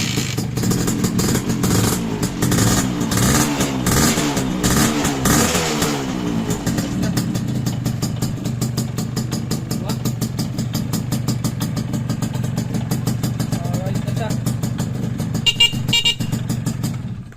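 A restored motorcycle engine, newly fitted with an exhaust silencer, revs loudly and close by, starting with rough, throbbing bursts and settling into a steady, sustained drone with no talking.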